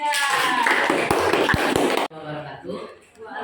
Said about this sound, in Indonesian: Tepuk tangan untuk kawan ketiga.